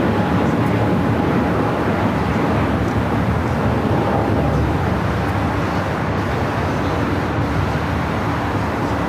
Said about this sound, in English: That would be the Emirates A380.